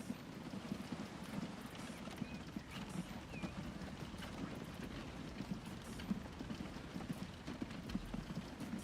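Horse-and-cart hooves in a Transport Fever 2 video game clip-clop at a steady walking rhythm, soft and continuous, over a low background rumble.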